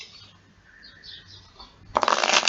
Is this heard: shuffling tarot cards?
yes